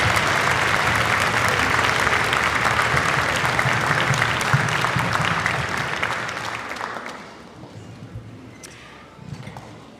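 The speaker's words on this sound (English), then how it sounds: "Let's give them a round of applause and wish them well." Audience applause at a middle school spring orchestra concert for seventh and eighth graders: a dense, steady wash of clapping from a full hall that fades out around seven seconds, leaving a quiet room with a few scattered claps.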